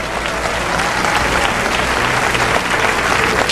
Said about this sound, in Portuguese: Aplausos para Deus!